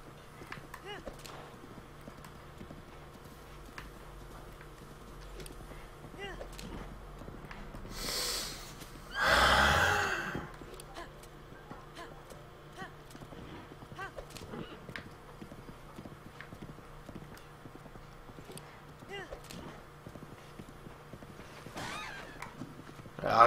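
Horse hooves clip-clopping and a whinny from a horse in Zelda: Breath of the Wild, steady footfalls with a louder neigh burst midway, under occasional talk.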